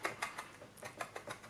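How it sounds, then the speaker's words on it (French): A knife chops ingredients very finely on a cutting board for a pasta salad, with quick, faint, regular taps at an even rhythm and no talking. "on hache vraiment finement"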